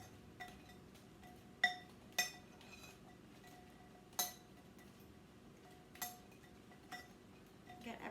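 Homemade croutons tossed in a bowl for split pea soup give a few sharp clinks and taps of utensil against bowl, spaced irregularly and fairly faint over a quiet kitchen background.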